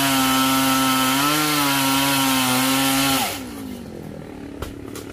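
A chainsaw roars loud and steady while cutting down a coconut tree, its engine pitch holding then dipping before cutting off abruptly, leaving quieter background with a couple of faint knocks.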